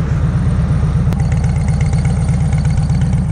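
A Harley motorcycle idles close by, its engine putting out a steady, even low throb with no speech over it.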